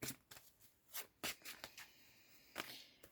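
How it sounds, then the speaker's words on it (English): Tarot cards being shuffled by hand: a series of quick, crisp riffling bursts, each brief and fairly close, separated by short pauses, with no talk. "I'm shuffling the rest of my deck."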